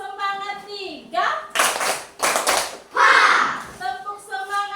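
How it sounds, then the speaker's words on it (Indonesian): Children in a Grade 4 classroom perform a rhythmic spirit clap, several loud bursts of group clapping alternating with a teacher's sung chant and young voices. "Tepuk semangat 3."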